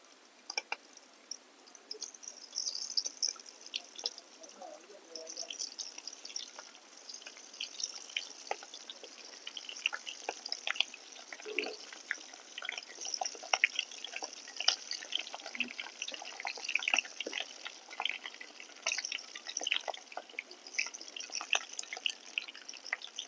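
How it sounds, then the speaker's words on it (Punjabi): Stuffed green chillies sizzle in a pan of hot oil, a steady crackling hiss with scattered sharp pops and spits running throughout, close and moderately loud with no talking. "ਲਓ ਆਪਣਾ ਤੇਲ ਗਰਮ ਹੋ ਗਿਆ ਹੁਣ ਆਪਾਂ ਮਿਰਚਾਂ ਪਾਵਾਂਗੇ"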